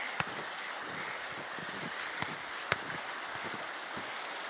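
Mountain stream flowing beneath a village bridge in the Carpathians in March, a steady soft hiss of running water with a few faint clicks and knocks over it, heard from close by.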